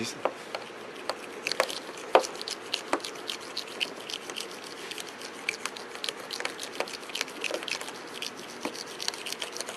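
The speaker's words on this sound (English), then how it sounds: "that's the sounds of this overspray breaking loose from the paint." Faint, irregular crackling and ticking as paint overspray breaks loose from a car's painted surface, like tiny particles popping loose, scattered steadily throughout with no voices.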